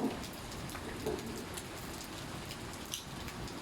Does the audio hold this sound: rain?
yes